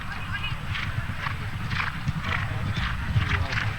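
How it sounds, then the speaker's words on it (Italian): Horse hooves clip-clop in a rhythmic canter across a show jumping arena, steady and fairly close, with a commentator talking over them. "è un cavallo un po' irruente."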